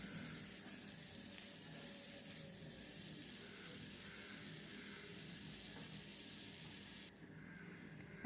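Cut potatoes fry gently in a pan of oil for a fish curry, a soft continuous sizzling hiss at low level with no talking.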